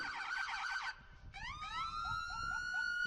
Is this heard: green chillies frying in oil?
no